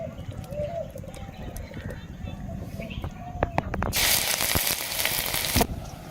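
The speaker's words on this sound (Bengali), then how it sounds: "এবার ব্যাটারে চুবিয়ে এগুলো ভাজবো" Batter-dipped helencha leaves slide into hot oil: after a quieter stretch with faint background voice, a sudden loud sizzle bursts up and holds for about two seconds before cutting off.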